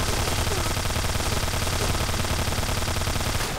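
Rapid, continuous Uzi submachine gun fire in the shooter game Point Blank, loud, dense bursts of shots rattling without pause for several seconds, no talk over it.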